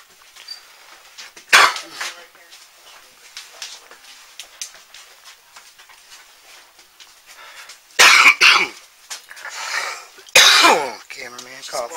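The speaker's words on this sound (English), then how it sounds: "Coughing." A person coughs a few times in sharp loud bursts, one early and two close together near the end, with quiet movement and faint clatter between.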